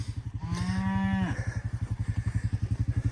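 A cow on a mountain farm gives one loud, close drawn-out moo, heard over a steady rhythmic engine-like chugging in the background.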